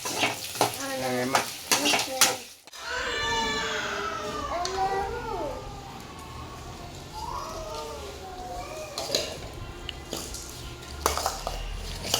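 Ingredients for a chicken fry are sautéed in a pan before grinding, with a spoon stirring and scraping against the metal over a soft sizzle, the clatter repeating close by while a voice talks at times.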